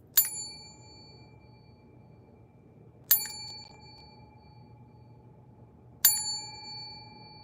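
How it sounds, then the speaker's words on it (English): Three bright, sharp strikes of a small hand bell, each ringing out with a clear decaying tone, spaced about three seconds apart in a quiet indoor room during a crochet meeting. "I forgot to use my bell because I haven't accomplished anything, but I feel like I need a little ringing to make me feel better."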